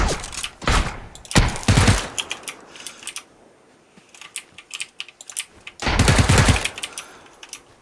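Automatic gunfire in the battle royale game PUBG rings out in several sharp, loud bursts of rapid shots, with quieter gaps between them and a final heavy burst near the end.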